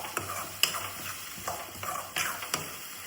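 Mutton masala powder is stirred into food cooking in a pan: irregular scraping strokes over a low, steady sizzle, close by and moderately quiet, with no talking.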